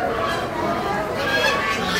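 At a busy poultry market in Gollamari, Khulna, penned chickens, ducks and quail cluck and honk together in a steady, crowded din, with a constant background murmur throughout.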